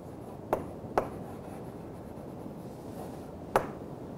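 A pen scratches short strokes by hand while working through a coding problem, three quick crisp marks spaced over a quiet room hiss with no talking.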